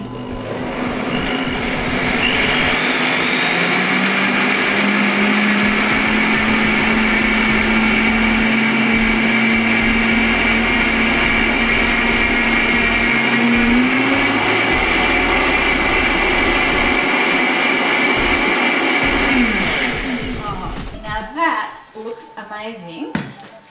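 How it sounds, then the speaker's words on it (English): A blender whirs steadily for about twenty seconds as it purées a batch of soup until smooth. The motor pitch climbs gradually and then drops as it spins down, leaving a few clatters at the end. "I'm going to blend it so it comes up smooth"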